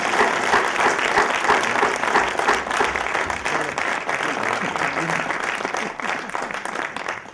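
A theatre audience bursts into loud, sustained applause as a drama's designer and director comes on stage. Dense clapping fills the whole stretch, close and continuous.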